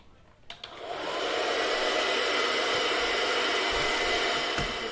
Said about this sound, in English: I'm going to put a hairdryer on it for a wee while.